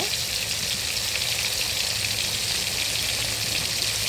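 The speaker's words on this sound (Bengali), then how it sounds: "তো আমার মাছটা ভাজা হচ্ছে, ভালো করে ভেজে নিব" Steady, dense sizzling of fish frying in a pan, a continuous crackling hiss that stays even and fairly loud throughout with no voices.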